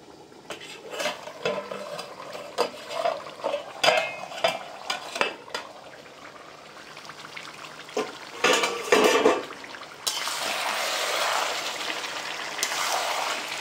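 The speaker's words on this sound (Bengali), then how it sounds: "এখন একটুখানি নাড়ায় দিয়ে দেবো মাংস।" Meat being stirred in a cooking pot with a little added water: a run of irregular scraping and clinking strokes of a utensil against the pot, close and moderately loud, followed by a steadier frying hiss toward the end, with no talk.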